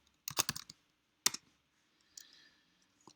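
A short burst of quick keystrokes on a computer keyboard while code is typed, then one sharp key tap and a softer rustle, close and otherwise quiet, with no talking.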